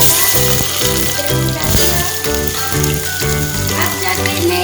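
Bay leaf, red chili, cumin and garlic frying in hot oil, a dense, steady crackling sizzle throughout with soft background music, no talk.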